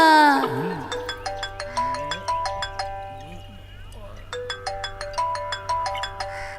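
A melodic phone ringtone repeats its chiming pattern several times, loud and close, with a brief voice at the start and a short pause midway.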